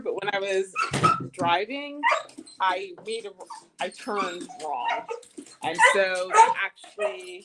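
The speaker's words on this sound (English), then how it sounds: "sorry guys, that's my dog." A dog barks and whimpers with short yips in the background while a person keeps talking over it in a garden setting.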